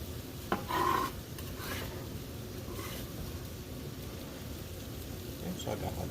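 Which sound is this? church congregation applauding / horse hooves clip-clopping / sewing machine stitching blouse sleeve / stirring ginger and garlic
stirring ginger and garlic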